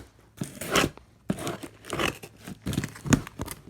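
Cardboard parcel box for a Hornby D261 Thomas & Friends model being cut open across the top, with several close bursts of scraping, crinkling cuts in an uneven rhythm, no talking.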